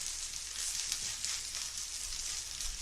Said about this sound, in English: while I let my rice continue to fry